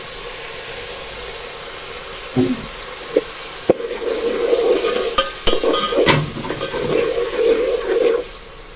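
Tomatoes go into spices frying in a pan for chana pulao and get stirred, a soft sizzle rising after a couple of knocks, with steady scraping and frying noise close by.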